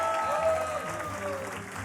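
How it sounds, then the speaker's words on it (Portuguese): Audience applause at a Brazilian panel on philanthropy and racial transformation, greeting council president Helena Teodoro; continuous clapping with tonal sounds and a voice over it. "pedir muitos aplausos para a Helena Teodoro"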